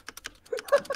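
Rapid clacking from a computer keyboard during a Pummel Party game session, a quick run of close, light key presses with no talking.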